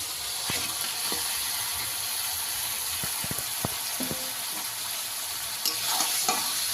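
Salt-rubbed cut fish frying in a wet, cooked-down spice masala, with a steady sizzle and scattered clicks of a spatula stirring the pan, close and moderately loud, no talking.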